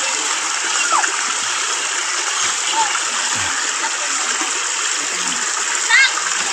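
Someone swimming in a river, with steady close splashing and rushing water throughout and a voice calling out over it.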